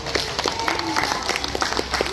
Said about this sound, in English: A round of applause for chemists.